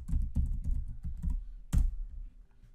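A password typed on a computer keyboard during a login, a quick run of close, moderately soft key taps with a few louder strokes and brief pauses, then the typing trails off. No one speaks.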